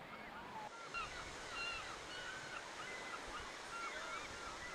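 Waves wash onto a crowded beach on Florida's Space Coast, making a steady broadband surf roar with faint bird calls above it. The sound is distant and quiet.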